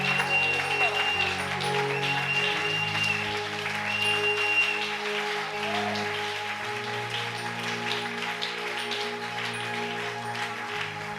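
Church congregation cheering and applauding during a prophetic revival meeting, with dense crowd clapping and shouting over a sustained organ or keyboard chord, loud and close throughout.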